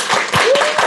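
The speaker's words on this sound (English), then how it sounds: "So a round of applause for the delegates, please." Applause for delegates at a national multicultural youth summit, a steady wash of clapping hands held for the whole second, loud and close, with a faint tone running through it.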